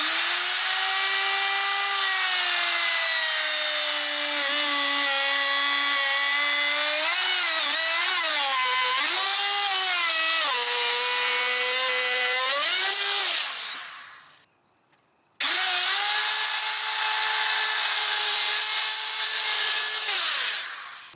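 A router cuts along a long clamped wooden board for a mailbox post, giving a loud, steady high whine whose pitch sags and recovers under load. It cuts out briefly, then starts again at full speed.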